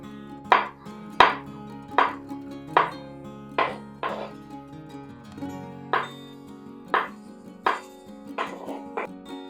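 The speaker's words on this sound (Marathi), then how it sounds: "अशा प्रकारे मिरची बारीक बारीक कापून घ्यायची." Green chillies being finely chopped with a knife on a board in a home kitchen, about a dozen crisp, evenly spaced chops close up.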